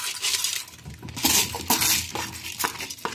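Dry urad lentils rattle and clink into a metal pressure cooker in a steady, gritty pour with a few sharper ticks, close and moderately loud.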